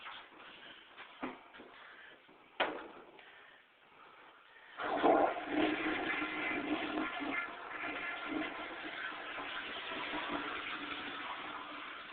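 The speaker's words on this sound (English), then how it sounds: "we'll flush the toilet." A household toilet flushing in a bathroom, starting with a few knocks and shuffles, then a sustained rushing of water that stays steady for about seven seconds.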